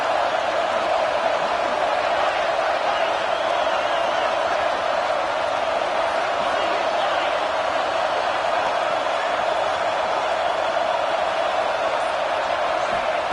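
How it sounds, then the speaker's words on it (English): Steady roar of a stadium crowd in the NCAA 26 college football video game, building on a third-down defensive stand; a dense, continuous wash of cheering noise holding at an even loudness throughout. "Decibels rising as the crowd gets behind this defense on 3rd down."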